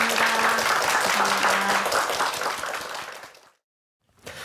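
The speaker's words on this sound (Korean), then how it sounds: "오늘 함께해 주신 최자연 씨에게 큰 박수 부탁드립니다" A studio audience on a Korean morning TV program applauds loudly and steadily, the clapping fading out after about three seconds into brief silence.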